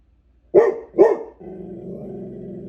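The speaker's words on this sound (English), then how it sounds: "Now she's outside and she's barking at the scary sky." A pet dog barks outdoors, two sharp close barks in quick succession followed by a low rumbling growl.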